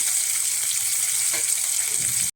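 Cashews, raisins, curry leaves and tomato fry in a hot pan with a steady, close sizzle that holds throughout before cutting off abruptly at the very end.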